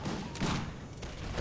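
Massed musket volleys and cannon fire in an Empire: Total War battle sound as a few dull, rumbling booms over a steady battlefield din, mid-distance and fairly loud.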